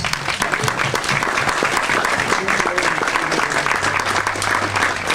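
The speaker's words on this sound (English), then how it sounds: "Let's give them a round of applause." An audience at a City Band concert bursts into sustained, loud applause for two young Cranberry Blossom Fest princesses, a steady dense clatter of many hands with faint background tones underneath.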